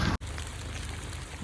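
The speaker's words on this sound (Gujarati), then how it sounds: "વરસાદ શરૂ થઈ ગયો છે" Rain begins falling outdoors along a roadside, a steady close hiss of drops that follows a brief dip at the start, with no voices present.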